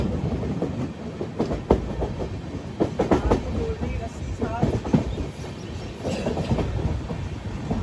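The Netravati Express sleeper train arrives at Roha station, with loud rumbling and clattering wheels on the track, short metallic squeals and a brief voice partway through.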